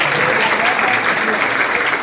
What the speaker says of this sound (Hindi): और एक बार ताली बजाएंगे, 2 अवार्ड, 2 तालियां बजाओ